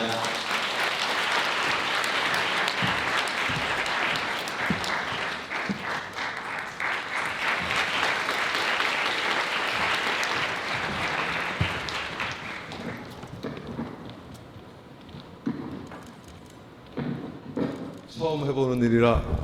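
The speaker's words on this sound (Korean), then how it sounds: "마찬가지로 박수로 모셔보겠습니다" Wedding guests in a Seoul hotel ballroom applaud as the bride's father is invited up, a loud sustained wave of clapping that gradually thins out and fades under talk near the end.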